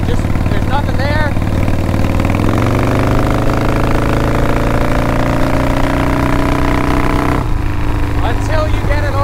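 A Harley-Davidson with drag pipes rumbles loudly as the rider rolls on the throttle uphill, the engine note climbing slowly while it struggles to pull, then dropping back, with someone talking over it.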